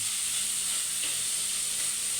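Fish frying in a pan gives off a steady, even sizzle, with a faint scrape of stirring partway through.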